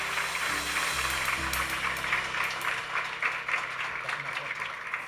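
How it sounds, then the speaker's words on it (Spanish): A church congregation gives the Lord loud applause, with continuous clapping over sustained keyboard tones and some speech mixed in, holding steady throughout. "Fuerte aplauso al Señor."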